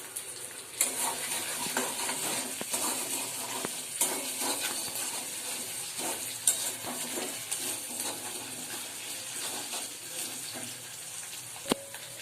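Ginger paste, salt and green chillies fry in a wok, making a constant bright sizzle with occasional stirring clicks and scrapes close by and no voices.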